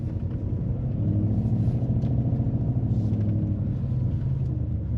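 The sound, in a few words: Mercedes-AMG SL 63 S V8 exhaust roar while driving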